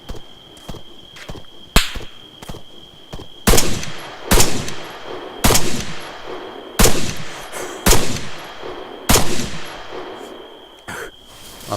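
Single-shot gunfire rings out in the video game Arma 3 at night, a series of loud, sharp individual reports spaced about a second apart, each with a trailing echo over a faint steady tone.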